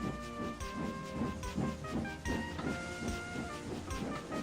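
Cartoon steam engine Gordon trundles away in a steady rhythmic chug with a clickety-clack of wheels, moderately close and continuous with no voices.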